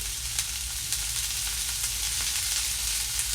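Onion sautéing in a pan for a black horse gram usal, a steady close sizzle with faint scraping of continuous stirring throughout, no voices.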